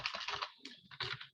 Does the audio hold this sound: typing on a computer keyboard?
yes